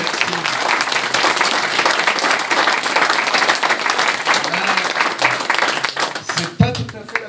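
Sustained audience applause at a tribute ceremony in Molsheim, loud, close and continuous clapping from many hands, breaking off near the end as a voice starts.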